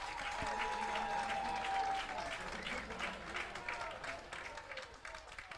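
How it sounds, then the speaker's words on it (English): Crowd at a minor league baseball game between the Lancaster Barnstormers and the Blue Crabs cheers and applauds loudly and steadily after a strikeout, the roar swelling then easing slightly as it continues. "and now you hear the crowd."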